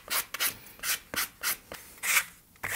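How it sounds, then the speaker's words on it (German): Sandpaper rubbed over the edges of a leather bag, grit 120 then 240, a series of close, soft rasping back-and-forth strokes in an uneven rhythm, with no one speaking. "Wieder darauf achten, dass man nicht zu flach schleift, sondern dass wirklich nur die Kanten geschliffen werden."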